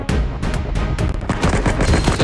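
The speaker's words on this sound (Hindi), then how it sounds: "अब बंदूक यहाँ पे मारेंगे" Rapid, loud bursts of automatic gunfire from the mobile shooter game Cover Fire, crackling continuously with short pauses between volleys and heavy low thumps underneath.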